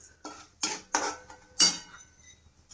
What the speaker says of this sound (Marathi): आणि त्याच्यानंतर मी सोप टाकत आहे आणि धने टाकत आहे.